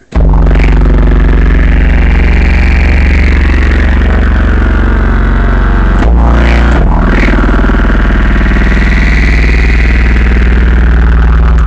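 Thick, loud layered synthesizer tones from a Gem S2 and Roland EG-101 linked together, with buzzing, sweeping textures and a rumbling low end, shifting briefly midway before continuing steadily.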